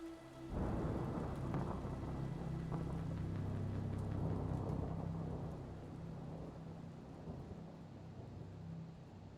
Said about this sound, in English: rain pouring on the cracked windshield